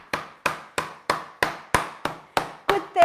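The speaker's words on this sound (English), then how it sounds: "Get the mallet out and hammer away." A mallet pounds raw chicken breast thin on a board, nine or ten evenly spaced, sharp thuds in a steady rhythm, loud and close, with no talk.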